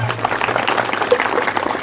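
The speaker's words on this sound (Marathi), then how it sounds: "स्वतःसाठी एकदा जोरदार टाळ्या वाजवूयात" Loud applause from a village audience at a Dr. Babasaheb Ambedkar lecture, dense clapping from a large crowd that stays strong and even throughout, with a faint hum underneath.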